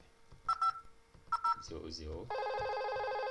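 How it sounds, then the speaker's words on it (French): Internal Cisco IP phone call: a few short dial-tone beeps and a brief voice, then a steady electronic ringback tone that holds to the end. "Là, ça sonne."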